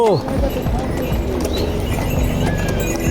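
Horses' hooves clip-clop steadily on a mountain pilgrimage trail on the Amarnath Yatra route, close and continuous with an occasional whinny, while people call out and talk over the busy trail noise.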